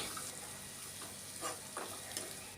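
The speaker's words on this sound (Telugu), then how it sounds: "అల్లం వెల్లుల్లి పేస్టు పచ్చివాసన పోయే వరకు నూనెలో మంచిగా ఫ్రై చేసుకోవాలి" Ginger garlic paste frying in oil in a pan for chicken fry, a soft, steady sizzle with a few faint stirring scrapes, quiet and close, with no talking.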